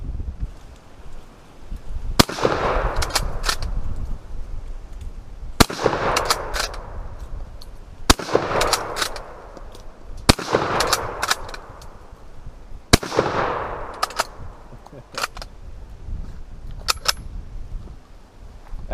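Rifle shots fired at an old TV packed with Tannerite, several sharp cracks spaced a few seconds apart, each followed by a rolling outdoor echo, loud and with no talk.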